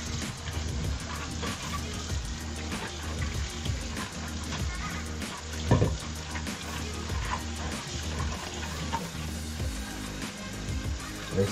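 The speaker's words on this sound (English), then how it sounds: "I'm just like letting the water go in," Tap water runs steadily into a kitchen sink during dishwashing, a continuous low trickle and splash with occasional clinks, heard close and without speech.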